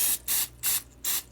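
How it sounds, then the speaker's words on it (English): Cheap store-brand vegetable oil sprayed onto the inside of a baking pan, four short hissing bursts in an even rhythm, close and clear. "now I've got my pan sprayed out"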